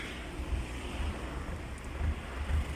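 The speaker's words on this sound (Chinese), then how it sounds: "现在已经下起来了，看到真是狂风暴雨啊" A severe convective thunderstorm with strong wind and rain sweeps over wheat fields in Dezhou, heard as a low, gusting roar that buffets the microphone in uneven surges.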